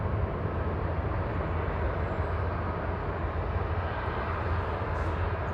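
A Swiss airliner taxiing at Manchester Airport makes a steady, low engine rumble and roar that holds level throughout, with a faint higher whine, heard from a distance and with no talk.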